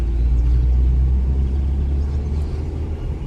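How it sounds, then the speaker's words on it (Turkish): A car's engine rumbles steadily and loudly during a Turkish driving test, with a low, heavy drone holding throughout and no voices. "Evet şimdi gaza basıyorum."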